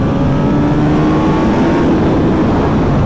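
A 2021 Kawasaki ZX10R sport motorcycle cruising on a road: a loud, steady, close engine drone at low revs with a faint rising whine over it, continuous and unbroken.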